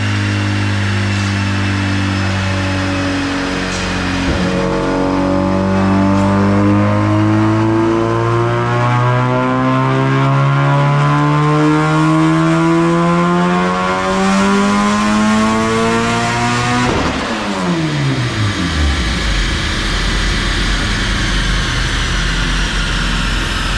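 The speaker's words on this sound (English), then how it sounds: "I'm gonna do a 4th gear pull." A turbocharged D16 engine in a Honda Civic EF hatchback screams through a long fourth-gear dyno pull on 93 octane fuel, its pitch climbing steadily for about seventeen seconds before the revs drop off abruptly and wind down.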